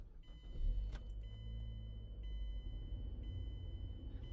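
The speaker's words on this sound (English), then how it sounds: "And again, the car starting up." A car engine starts and then idles quietly, a low rumble swelling early and settling into a steady hum, accompanied by repeating high electronic chime tones.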